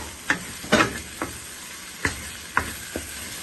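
Biryani masala, Kitchen King masala and salt are stirred into a pot for chicken biryani. About six distinct scraping strokes of a spoon against the pot sound over a soft, low sizzle.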